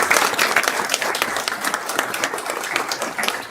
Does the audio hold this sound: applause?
yes